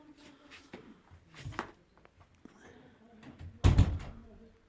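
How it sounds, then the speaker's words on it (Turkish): A bird cage door clicks and creaks open, ending in a louder knock or bump, with quiet shuffling and movement around it. "Kapı açılıyor."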